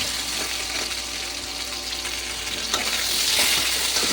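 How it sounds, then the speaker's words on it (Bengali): Potatoes sizzle and crackle in hot oil, a continuous close frying hiss with occasional stirring scrapes. "আমি নুন দিয়ে হালকা করে ভেজে নিচ্ছি আলুটা"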